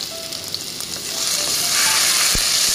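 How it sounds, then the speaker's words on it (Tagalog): Ginger sautéing in hot oil in a pan for Bicol-style ginataang sitaw, a bright sizzle that rises and grows louder and denser toward the end, with no talking. "igigisa ko muna yung luya"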